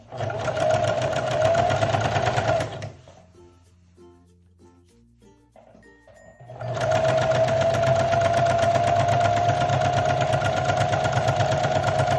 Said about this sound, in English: let's get this center back seam, 1/2 inch seam allowance sewn